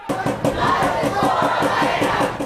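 A crowd chanting in rhythm while marching around Lucas County Jail, loud and close, with regular pulsing beats of massed voices.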